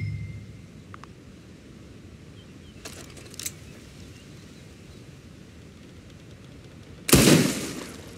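Gunshots at a shooting range in Red Dead Redemption 2: a few faint cracks early, then one loud close shot near the end, with quiet ambience between.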